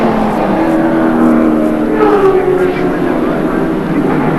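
Holden Commodore race cars lapping at Amaroo Park in a 1989 AMSCAR race, a steady engine drone with rising and falling pitch as cars pass, heard under a commentator's voice.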